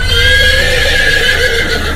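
A frightened horse rearing lets out a loud, sustained, wavering neigh, close and prominent, with no talking over it.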